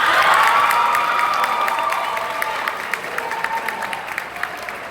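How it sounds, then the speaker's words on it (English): At a middle school sports awards ceremony, an audience claps and cheers loudly after a team award, the applause thick at first and slowly thinning while scattered whoops and individual claps remain. "Everybody give a round of applause."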